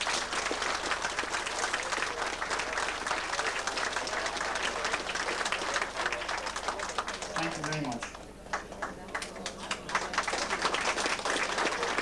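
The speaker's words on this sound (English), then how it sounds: "So I'd ask you to give them a big round of applause." A crowd gives a big round of applause at a hotel dance in Rathmullan, dense continuous clapping filling the room, with a brief voice speaking partway through.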